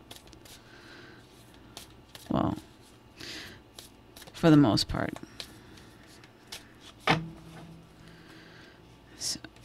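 Sacred Destiny tarot cards being shuffled by hand, a few brief riffling bursts with a longer flurry in the middle, set among quiet pauses and a short spoken phrase.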